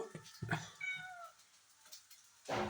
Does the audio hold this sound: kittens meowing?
yes